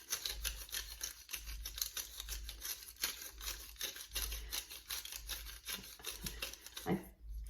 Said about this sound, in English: I have rosemary in a grinder here, so I'm just gonna eyeball it and add that to it.